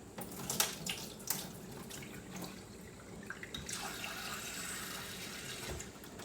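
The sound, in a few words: tap water rinsing dried black beans in sink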